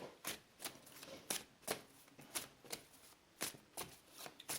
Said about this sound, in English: So I'm just shuffling, and I think the Celtic cross for this one.